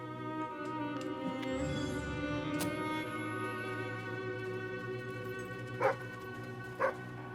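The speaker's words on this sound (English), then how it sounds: "Dog." A dog in Fable III gives short yips and whimpering barks over a steady tonal game ambience, with two sharper bursts near the end, fairly close and clear, no talk.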